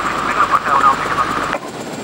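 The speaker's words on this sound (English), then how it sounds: "so the helicopter takes up the pursuit" A police helicopter in pursuit drones steadily overhead with a rotor-and-engine hum, voices chattering over a radio-like band, then the noise cuts back sharply near the end.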